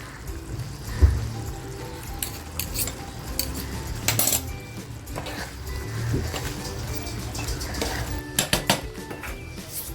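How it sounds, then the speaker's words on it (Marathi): Potatoes mashed into a pea-and-potato gravy in a pot at home, giving repeated soft clinks and scrapes of a utensil against the metal pot, with brief sharper knocks amid a steady low background. "आता मी दोन बटाटे आहे ना ह्याच्यामध्ये मॅच करते"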